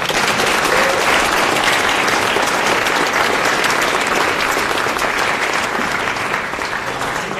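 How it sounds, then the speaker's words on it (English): A large university lecture audience applauds steadily, dense clapping at full volume throughout with no pause. "big round of applause for Cristina Hoff Sommers"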